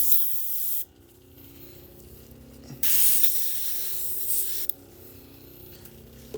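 Airbrush fed by an air compressor set low at 29 PSI sprays paint onto a Chaos Space Marine miniature, giving a steady close hiss in a few bursts with short pauses between them.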